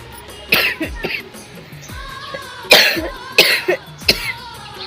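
Several harsh coughs, close and fairly loud, come in irregular bursts with short quiet gaps between them.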